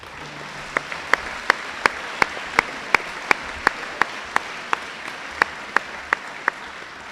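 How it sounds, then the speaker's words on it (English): A school audience at a 2018 awards presentation claps for students, a soft continuous patter of many hands behind a regular series of sharp, evenly spaced clicks that tick about every third of a second. "Could you please give our students a round of applause?"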